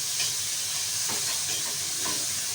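Garlic, onion and tomato sauté in a pan with a steady, bright sizzling hiss and a few faint stirring scrapes, with no talk.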